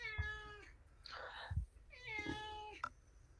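A cat meows several times in close succession, each call a clear drawn-out tone, heard up close and quiet, with soft breathy sounds between the calls.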